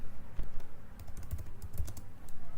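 Computer keyboard typing while entering an SQL query, a quick, steady patter of close, light key clicks with no talking.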